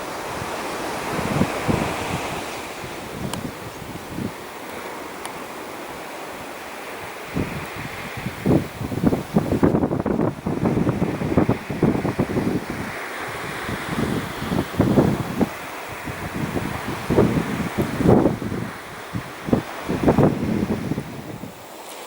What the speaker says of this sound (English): Our river joined the magnificent sea that you can see behind me.